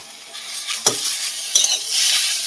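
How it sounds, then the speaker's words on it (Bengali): Leafy greens fry in a wok with a bright sizzle. A spatula stirs them in two sharp scraping strokes, and the frying swells toward the end. "শাকটা ভালো করে ভাজা হয়ে গেছে,"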